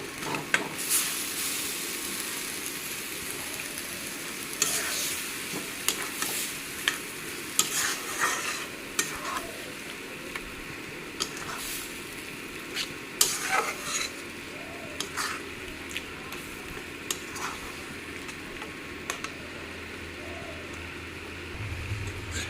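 Rice tipped into a hot pan and stirred with a utensil, giving steady sizzling with frequent scraping clicks of metal on the pan throughout, close and continuous with no talk.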